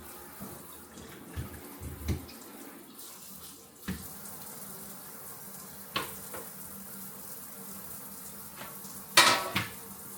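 Dishes get washed in a one-hole kitchen sink with a sprayer: running water hisses steadily under scattered clinks and clunks of dishes and utensils, including one louder clatter near the end, with no talking.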